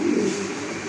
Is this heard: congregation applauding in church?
no